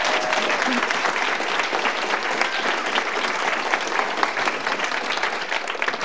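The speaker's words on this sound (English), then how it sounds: "Let's give her a round of applause." Applause from the audience at a school board of education meeting: dense, steady clapping from many hands, loud and continuous throughout with no break.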